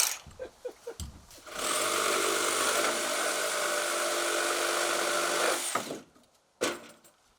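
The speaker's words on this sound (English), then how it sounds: "Finished trim saw with the carbide blade." A trim saw with a carbide blade cuts through framing lumber for a sunroom addition, a loud, steady high whine for about four seconds, preceded and followed by brief knocks and handling sounds.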